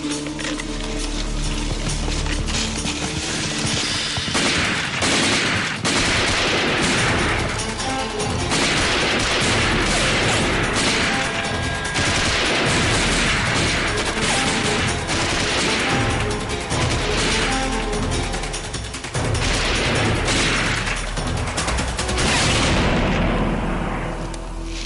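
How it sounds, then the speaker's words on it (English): Sustained gunfire in a sniper shootout, dense rapid shots and booms running continuously and loudly for the whole stretch, with rumbling blasts and no clear speech. "We're going to try and draw the sniper's fire."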